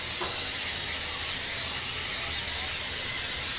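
Non-stick cooking spray hisses steadily from the can onto a baking rack over a rimmed baking sheet, one continuous close spray lasting a few seconds with no talking.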